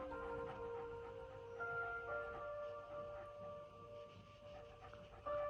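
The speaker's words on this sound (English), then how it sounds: "Stop whimpering now." An elderly dog of 12 years and 7 months whimpers and pants nearby, with faint, drawn-out high whines over soft breathing in a quiet room and no talking.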